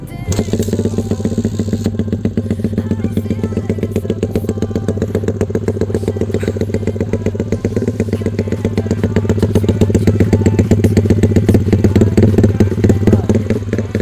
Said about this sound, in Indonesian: Kita dengari suara dari motor ini.